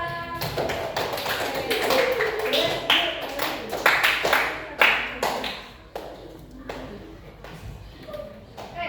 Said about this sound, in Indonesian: kita beri tepuk tangan untuk kelompok apa?